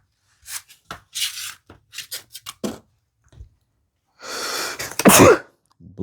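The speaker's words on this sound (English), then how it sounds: "Sneezed right into the mic." A sneeze goes straight into a close microphone, a loud sharp burst near the end, preceded by scattered short rustling and handling noises in otherwise quiet surroundings.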